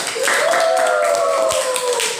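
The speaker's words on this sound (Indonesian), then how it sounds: "Tepuk tangan untuk kelompok 1." Students clap for a group in an Indonesian primary school science lesson, a continuous patter of hands with a sustained tonal voice or whistle drifting over it.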